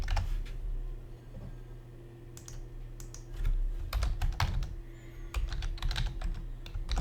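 Close, irregular keystrokes on a computer keyboard as a password is typed, quick clusters of clicks with short pauses between them and no talking.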